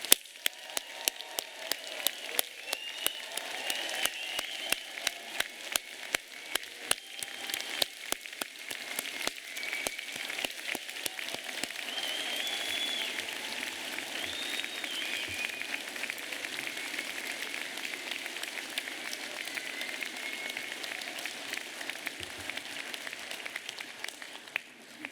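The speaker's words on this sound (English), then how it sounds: "You've done very well with that applause." Audience applause for graduates at a university degree ceremony in Newport: sustained, dense clapping from a large assembled crowd, steady and fairly loud throughout, with a few sharper individual claps near the start.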